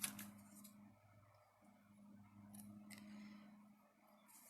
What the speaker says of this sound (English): I'm going to cut off my threads.